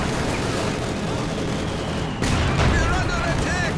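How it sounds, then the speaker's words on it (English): A light artillery barrage in Company of Heroes 2 lands as a dense rumble of blasts and gunfire, with a sharp jump in loudness midway, while a voice comments over the battle. "We're seeing light artillery barrage going in."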